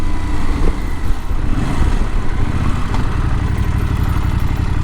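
A KTM 490 Adventure motorcycle rides along country lanes, its engine giving a steady, loud, continuous drone with road rumble and no gaps, heard close up from the rider's position.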